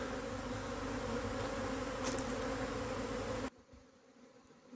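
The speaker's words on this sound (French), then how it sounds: "L'essaim s'est fixé dans notre pommier, notre grand pommier." A honey bee swarm settling into a large apple tree, giving a dense, steady buzzing hum that fills the air at close range, then drops abruptly to a quieter, distant drone near the end.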